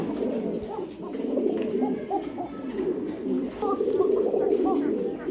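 A pigeon coos in repeated low, throaty rolling calls, close and steady, with other birds faintly around and a voice speaking at times.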